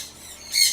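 A parakeet in an aviary gives a short, shrill squawk, close and fairly loud, rising sharply in the last half second after a brief faint chirp.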